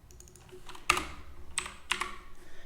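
A computer keyboard being typed on nearby, a few sharp isolated key clicks spaced unevenly over a couple of seconds with faint background hum and no speech.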